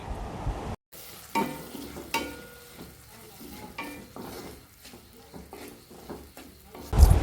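Onion and tomato frying in a pan, a steady close sizzle with frequent stirring scrapes and clatter, briefly silent near the start, no voices.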